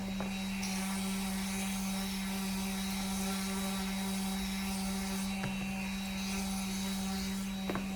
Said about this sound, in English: I have a Festool sander, palm sander, and then I use the Serious Grit 180 grit sandpaper.